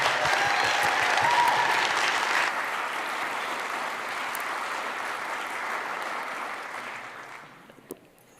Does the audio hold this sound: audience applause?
yes